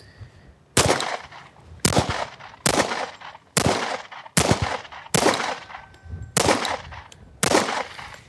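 Eight sharp gunshots from the 1776 Duck Edition gun ring out one after another at roughly one-second intervals. Each is a loud crack with a short echoing tail, and there is no talking.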